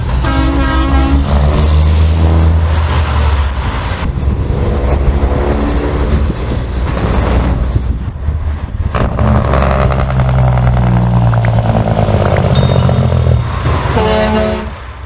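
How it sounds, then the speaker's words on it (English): A diesel truck engine rumbles loudly up close with air brake hisses, a rising whine and a horn toot. The heavy rumble continues through a long stretch. "You guys hear that sound of the diesel motor?"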